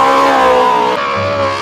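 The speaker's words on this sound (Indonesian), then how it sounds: "Mobil balap." A toy race car gives a brief, loud electronic engine whine with a shifting tone, close and continuous for under two seconds.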